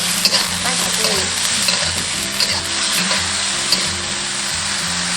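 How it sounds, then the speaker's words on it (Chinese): Cauliflower is stir-fried in a pan with a little water, salt and seasoning, sizzling loudly up close while a utensil scrapes and stirs in a steady, irregular rhythm. "翻炒均匀"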